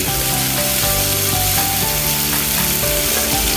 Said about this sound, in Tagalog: At tayo naman ay magigisa ng ating onions.